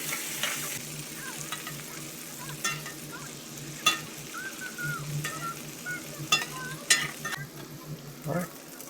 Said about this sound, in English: I'm gonna toss in the butter.